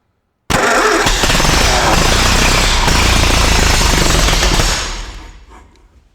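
A Ferguson TEA20 tractor engine fires up abruptly and runs loud and rough close by for about four seconds, then its clatter fades away as it drops off.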